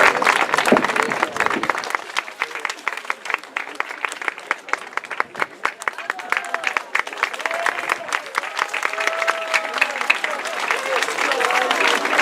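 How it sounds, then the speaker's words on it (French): Sustained audience applause at an art exhibition opening for the Art Dit anniversary in Metz, dense clapping from a crowd filling the room steadily from start to finish, with some voices chattering underneath. "On peut les applaudir, je crois"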